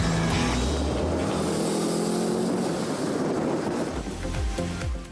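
A vintage Salzburg Beetle is driven hard along a rally stage at the Kitzbühel Alpine Rally, its engine droning steadily close by with rushing road noise, then rising and falling in pitch toward the end.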